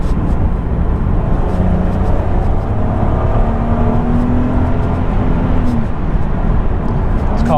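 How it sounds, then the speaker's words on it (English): A Mk1 Audi TT 3.2 V6 DSG (8N) heard from the cabin under hard acceleration, its engine note rising steadily in pitch over a loud, constant road and engine roar. "Just enjoy that symphony of the V6."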